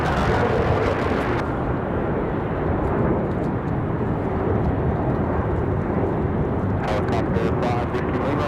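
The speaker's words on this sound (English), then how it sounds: "Back to another Breeze Airways, another A220 rolling out." Breeze Airways Airbus A220 rolling out at Raleigh-Durham International, a loud sustained jet engine rumble and roar running throughout, with a voice speaking over it.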